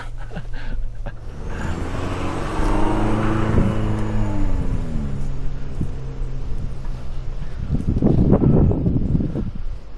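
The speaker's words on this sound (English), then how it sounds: "I'm just going to keep a smooth throttle, and we're just going to keep moving." A 2023 GMC Canyon AT4X pickup rolls over a bumpy off-road mountain course, its engine droning and shifting steadily with wind rumble, and a louder burst of rattling and knocking near the end.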